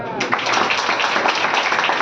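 A church congregation at a Full Gospel Sunday service in Hazaribagh claps hands together, a dense, steady patter of many palms filling the room, loud and close throughout.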